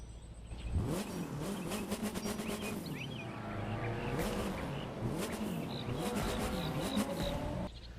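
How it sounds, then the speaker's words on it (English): A Saleen car with a 4-cylinder engine idles and revs repeatedly, its engine note rising and falling in several loud surges, heard close and with no talk over it. "for this vehicle being a 4-cylinder, that really does not sound all that bad"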